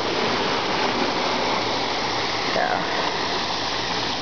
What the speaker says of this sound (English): nice full river.